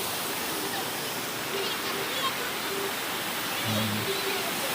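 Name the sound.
waterfall on a hilltop in the Javadhu Hills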